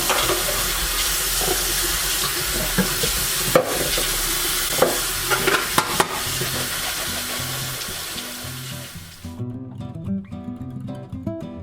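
A mixture in a pan stirred and simmering with a soft steady sizzle and occasional utensil clinks, then ending abruptly into quieter kitchen sounds.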